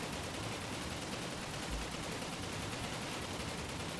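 An M249 machine gun fires in the video game Gorebox, a dense, steady rattle of rapid shots that runs unbroken at close range and constant loudness for the whole stretch, with no voices.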